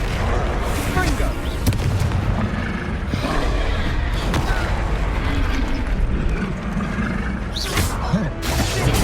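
Confringo blasting-spell explosions from the game Hogwarts Legacy during a troll fight, a dense run of loud booms and bursts over rumbling battle noise that fills the whole stretch, with speech mixed in.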